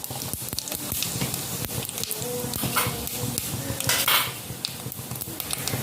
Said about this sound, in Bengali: তেল গরম হয়ে গেছে, এখন ওর মধ্যে অল্প একটু জিরে ফোড়ন দিয়ে দেব।